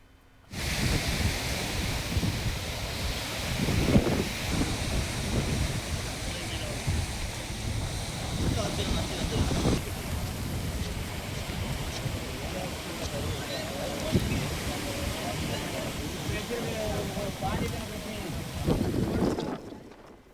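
Strong coastal wind and rough, roaring sea waves on a Tamil Nadu beach during Cyclone Ditwah; a continuous loud wash of surf and wind blast carries on for about twenty seconds, with no talking over it.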